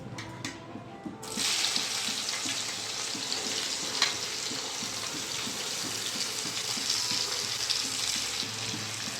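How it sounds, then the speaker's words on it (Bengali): Chopped onions drop into hot oil already seasoned with whole garam masala, dried red chilli, bay leaves and cumin for Bengali mutton kosha. They set off a loud, continuous sizzle and crackle that holds steady throughout. "তেল গরম হয়ে গেছে। দিয়ে দেবো কেটে রাখা পেঁয়াজগুলো"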